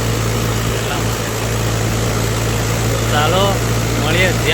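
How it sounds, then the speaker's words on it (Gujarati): A tractor engine runs steadily while hauling sand on a rainy day, a constant low idling drone close by, with people talking over it toward the end. "પેલા ટ્રેક્ટર હું જઈ રહ્યો છું રેતી ખાલી કરવા"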